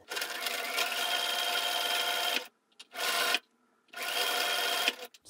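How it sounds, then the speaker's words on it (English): A sewing machine stitches a quarter-inch seam across the top and bottom of a fabric face mask, running in three steady, close buzzing bursts separated by brief pauses. "we're just gonna go across the top and the bottom with the 1/4 inch seam"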